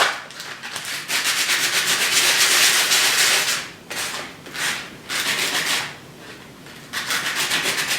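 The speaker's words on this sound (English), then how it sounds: "I also try to get them off as well with the sanding paper" Steady rough rasping of sandpaper rubbing the edges of a wooden name plate, in long continuous strokes with a few brief pauses, close and fairly loud.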